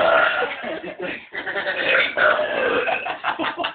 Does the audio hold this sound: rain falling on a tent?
no